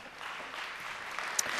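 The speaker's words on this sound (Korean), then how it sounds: "박수로 한번 격려해 주세요" An audience in a church service applauds, a short burst of steady, fairly soft clapping from many hands filling the room.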